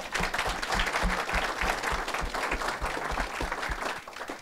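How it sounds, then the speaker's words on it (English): An audience gives a speaker sustained applause at a talk, dense close clapping from many hands that continues steadily throughout. "let's give our speaker a round of applause"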